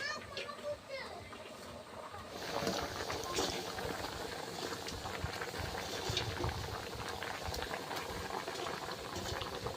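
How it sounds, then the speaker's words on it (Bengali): A pot of taro curry with tengra fish bubbles and boils steadily, with faint voices in the background. "তরকারি ফুটে উঠেছে আর তরকারি হয়েও গিয়েছে"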